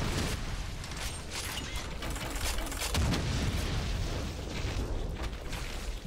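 A rocket launcher fires and explodes in the video game Doom with the Project Brutality mod, giving a dense, loud, rumbling roar of blasts and mechanical clatter that swells midway and continues without talking.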